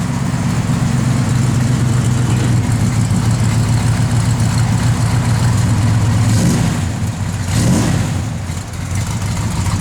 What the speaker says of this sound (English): Car's got a good sound to it.